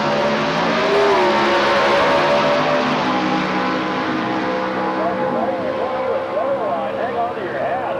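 An Austin Bantam drag race car launches down the lane at an NHRA competition in Gainesville, its engine roaring loud and sustained as it pulls away, with a commentator talking over it.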